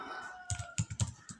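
Quick, light keystrokes on a computer keyboard while typing Tamil text on a Linux machine, coming as several irregular clicks close to the microphone.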